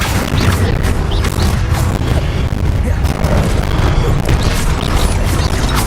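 Repeated Confringo fire-spell blasts in the Hogwarts Legacy video game, loud booming explosions and crashes piling up continuously through a chaotic battle, with a voice shouting the spell name over them.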